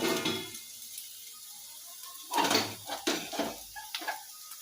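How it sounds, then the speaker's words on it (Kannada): Boiled chicken goes into frying masala along with its cooking water, setting off a burst of sizzling and bubbling after some clattering of pots and utensils. "ಈಗ ಇದಕ್ಕೆ ನಾನು ಕುದಿಸಿರುವಂಥ ಚಿಕನ್ನ ಆ್ಯಡ್ ಮಾಡ್ಕೊತೀನಿ ನೋಡಿರಿ"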